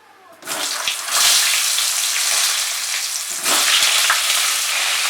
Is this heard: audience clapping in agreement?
no